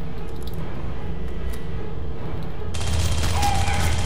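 Game gunfire from Aliens: Colonial Marines, a steady loud burst of rapid shots filling the second half after a quieter stretch of ambient rumble, with faint shouting underneath.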